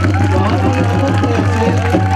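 A ceremony audience claps in a steady, dense wash of applause that carries evenly through the whole moment, with voices mixed in beneath it.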